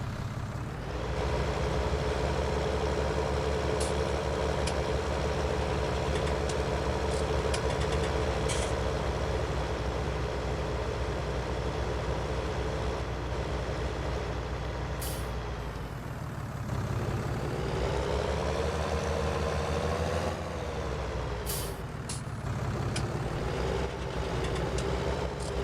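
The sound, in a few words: tuned vehicle engine with exhaust and turbo, Farming Simulator 19 video game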